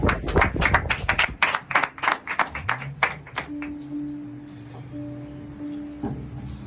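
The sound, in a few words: congregation applauding the word of God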